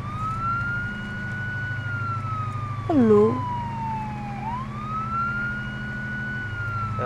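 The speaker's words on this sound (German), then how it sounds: "Mach mal Sirene aus" A police car siren in the video game Arma 3 wails continuously, sweeping up and down in pitch over engine drone, with a brief greeting spoken partway through.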